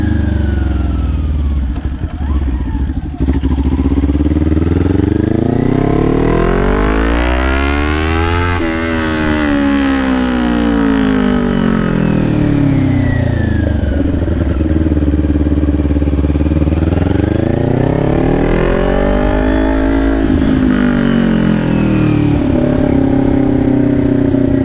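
A Kawasaki Ninja 400 motorcycle ridden at night, its engine loud and close, rising and falling in long sweeping revs through the gears over steady wind noise.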